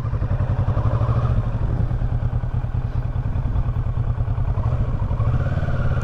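A 2018 Kawasaki Versys 650 ABS Tourer motorcycle rides at steady speed, its engine a loud, continuous low rumble with rapid thumping pulses and wind noise throughout, close by.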